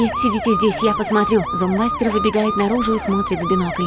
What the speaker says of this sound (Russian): Сработала система зомби-оповещения.